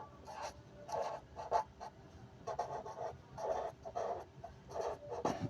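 A pen or marker scratches across a board or page in short bursts, close and distinct, with brief pauses between strokes while a math formula is written out.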